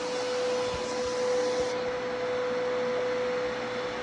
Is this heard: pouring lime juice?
no